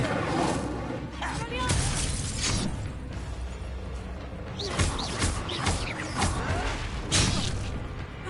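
Incendio fire spell cast in the wizarding game Hogwarts Legacy, whooshing flame bursts and crackling blasts that come in several loud surges, mixed with clashing and shattering effects during a fight.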